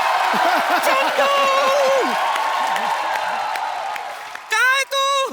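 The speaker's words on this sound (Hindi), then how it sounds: "जोरदार तालियां हो जाए एक बार" A television comedy show's studio audience claps and cheers, a fairly loud wash of applause under excited talk and vocal whoops, fading slightly before a burst of shouting near the end.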